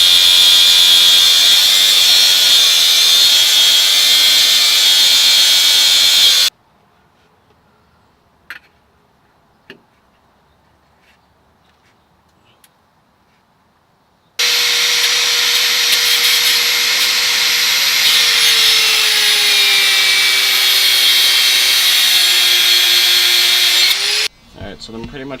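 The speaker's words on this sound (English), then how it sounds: "I'll just grind that off and see what it does." An angle grinder cuts off a part near the exhaust of a Mazda Miata in two long, loud bursts of high whining grind with a quiet gap between them.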